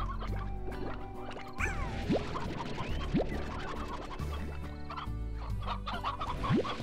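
Chickens cluck and scratch in the Slime Rancher video game on PC, a busy flock of hens with a rooster chattering continuously over looping in-game background music, with no talking.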